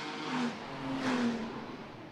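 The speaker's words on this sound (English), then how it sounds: "The Toyotas all out together." Toyota GT race cars on a track at Macau, with a distant engine whine that rises and falls as they drive out, fairly faint under steady ambient noise.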